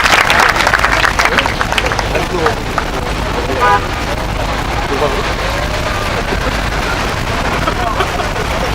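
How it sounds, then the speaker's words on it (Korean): Outdoor crowd at a protest rally in Gwanghwamun Square applauds to welcome a speaker, a broad, dense wash of clapping over constant street noise with amplified voices heard along with it. "힘찬 박수로 맞아주시면 고맙겠습니다."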